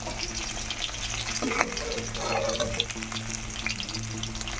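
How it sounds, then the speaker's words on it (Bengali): Bhangor bata fish fry in plenty of oil, giving a steady, even sizzle over a low background hum, with a few faint clinks near the middle. "মাছগুলো এরকম ভাজতে হবে, খুব বেশিও না কমও না"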